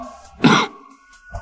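A single short, sharp cough bursts out in a quiet room, followed by near silence and a faint low thump.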